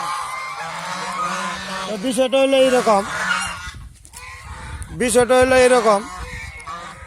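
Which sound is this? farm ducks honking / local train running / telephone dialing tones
farm ducks honking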